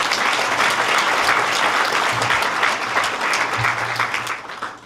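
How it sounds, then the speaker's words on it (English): A Franklin County Chamber breakfast audience applauds for CISA in a dense, sustained round of clapping from a roomful of people that fades slightly at the end. "So one big round of applause for CISA,"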